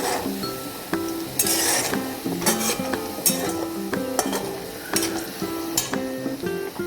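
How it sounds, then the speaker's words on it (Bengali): Onions frying to a reddish brown in a pan for a meat curry, a continuous sizzle with repeated metallic clinks and scrapes of a spatula stirring at an irregular rhythm, close and moderately loud. "এইভাবে পেঁয়াজটা সুন্দর করে লাল করে ভাজতে হবে"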